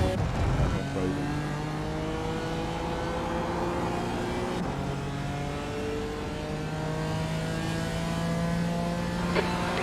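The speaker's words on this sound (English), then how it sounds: "a faster class car approaching" A faster class race car approaches in the iRacing video game during a 12-hour Barcelona endurance race, steady engine whine with rising and falling gear tones that holds throughout, with faint talk underneath.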